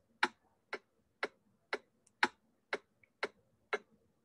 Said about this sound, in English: It's also often referred to as a click track due to the clicking pulse it makes